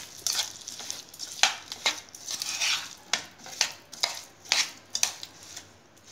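A spoon stirs cucumber pickle pieces into a spice mix in a bowl at home, making a steady run of rhythmic scrapes and soft clinks, close and alone.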